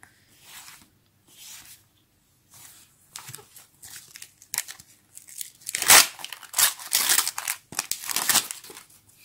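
Scissors cut through a Panini sticker sheet in a series of crisp snipping and crinkling bursts, sparse at first, then louder and quicker near the end, close by with no talking.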